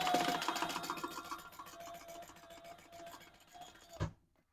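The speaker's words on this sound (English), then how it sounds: "We're going to sew down each side" A sewing machine stitches down the side of a strap connector on a retro-style sling bag, running in a fast, even mechanical rattle that gradually eases before a final thunk and silence.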